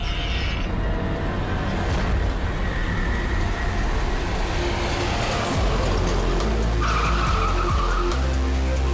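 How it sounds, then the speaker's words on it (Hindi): A car brakes hard on an empty road and its tires skid loudly for several seconds, a sustained screech with rising squeals near the end over rumbling engine noise. "मैंने तुरंत ब्रेक लगाई"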